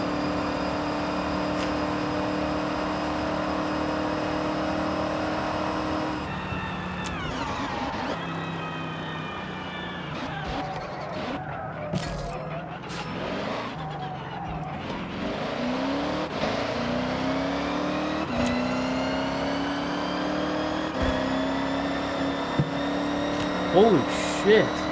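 A car engine, apparently a Jimmy fitted with a Liberty sequential gearbox, revs and climbs through several gears with rising and falling pitch, close by, while people talk over it.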